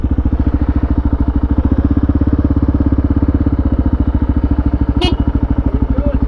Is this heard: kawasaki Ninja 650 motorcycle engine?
yes